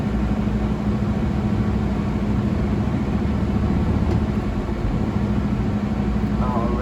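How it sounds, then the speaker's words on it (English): Steady low hum of a truck engine held on the gas during a tractor brake tug test, close and constant with a continuous drone from inside the cab, with a faint voice in the background. "When I push the gas, the truck should just gently rock, making sure the brakes hold it."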